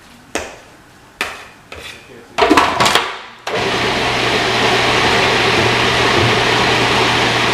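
A few sharp knocks and scrapes open, then a loud, continuous motorized whir takes over, like a blender churning a raw vegan corn chip mixture.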